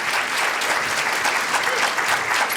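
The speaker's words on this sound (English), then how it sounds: "Please give her a big round of applause." Steady applause from a seated audience at a children's summit in Marin, continuous dense clapping with no break.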